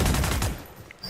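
Burst of rapid gunfire in the tactical shooter Valorant, fired through a wall during a PEC versus Nebraska esports match, loud and dense for about half a second before cutting off into quieter game ambience.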